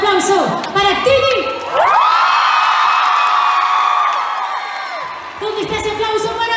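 A large concert audience at a show in Tel Aviv, Israel, screams and cheers loudly in a long, sustained roar, with a voice speaking before and after.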